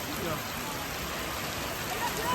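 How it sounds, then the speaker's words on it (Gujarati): Steady, dense heavy rain hisses across the whole clip in a village, a constant wash of drops falling on surfaces with no breaks. "વરસાદ ખતરનાક ચાલુ થઈ ગયો છે"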